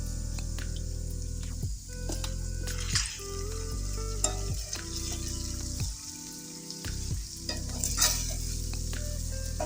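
Spices and salt are mixed into chicken curry in a pan, with a steady sizzle under repeated wet scraping and stirring strokes and occasional utensil clinks, heard up close and fairly quiet.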